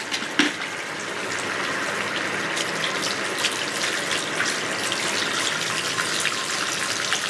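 Steady running water from a tap or shower while hair is washed with Lakme shampoo, a continuous close gush with a faint splash near the start and no talk over it.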